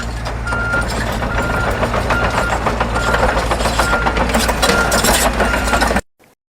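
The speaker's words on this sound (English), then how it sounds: "Bulldozer." A bulldozer's engine rumbles steadily while a reversing alarm beeps repeatedly over it, with a few metallic clinks, before the sound cuts off abruptly near the end.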